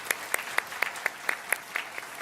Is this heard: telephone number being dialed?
no